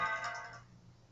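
A phone ringtone chimes for about half a second with bright tonal notes, then cuts off, leaving a quiet room hum.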